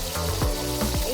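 Vegetables flash-fried in hot oil for Chilli Crab, a steady close sizzle and bubbling with a few brief clinks and stirring bumps, no talking.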